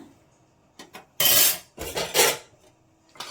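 A spoon stirs milk powder into hot milk in a metal pot, making several separate bursts of loud metallic scraping against the pot, with short quiet gaps between them.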